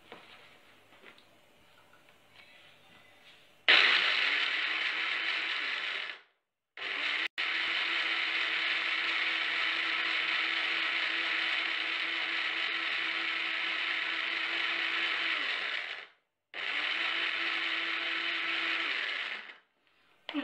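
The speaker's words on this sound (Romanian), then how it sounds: "Și acum, în blenderul nostru, voi pune migdalele." A kitchen blender grinds almonds with water for almond milk, starting after a quiet moment and running in three long loud whirring bursts separated by short pauses.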